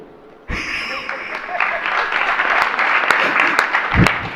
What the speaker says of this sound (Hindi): ये ताली बजती